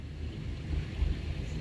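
Two rivers meet and mix among the Himachal mountains, a steady broadband rush of flowing water with low rumble, fairly faint and without talk.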